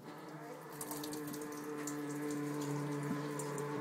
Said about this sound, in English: Turn on the kitchen sink.